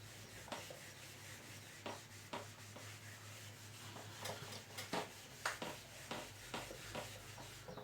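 Writing being rubbed off a board, a series of soft scraping strokes in an uneven rhythm, close but faint over a low steady hum.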